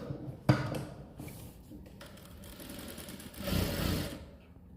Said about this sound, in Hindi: अब हम यहाँ से कट पे मैच करते हुए सिलाई लगाएंगे।